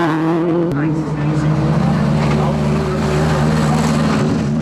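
A rally car at full speed on a 2005 WRC Mexico stage, its engine roaring loud and close with a steady, sustained drone for several seconds.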